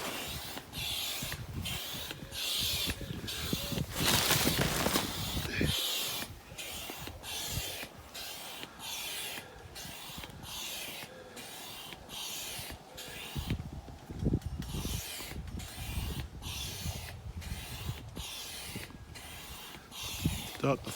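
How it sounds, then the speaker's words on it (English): Hand pump pushing air through the valve of a Berghaus Air Shelter: a long run of regular, evenly spaced hissing pump strokes, close by, with occasional rustling of fabric. "So with the valve connected, which is a push and turn, you just start pumping."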